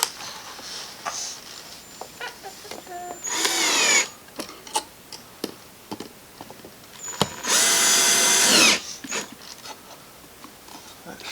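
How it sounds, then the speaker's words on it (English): Power drill boring into a surface while a smoke alarm mounting plate goes up, two loud bursts of whirring separated by clicks, taps and handling knocks. "you want to hold the drill?"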